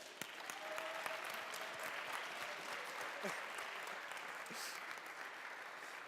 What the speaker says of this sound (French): peut-être petit applaudissement pour les organisateurs de la SMGL